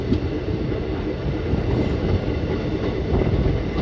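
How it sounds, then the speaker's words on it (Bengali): Onboard an Ahmadpur–Katwa electric passenger train picking up speed, a steady close rumble of the carriage with faint clickety-clack from the wheels running continuously. "ট্রেন ধীরে ধীরে স্পিড নিয়ে এগিয়ে চলেছে।"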